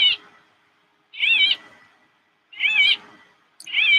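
A white-fronted bee-eater repeats a warbling, trilled call in short bursts about every second and a half, clear and fairly close with quiet gaps between.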